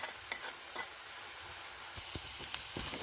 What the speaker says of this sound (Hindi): बस करीब 1 मिनट तक भूनना है और गैस बिल्कुल कम रखनी है, नहीं तो मसाले जल जाएंगे।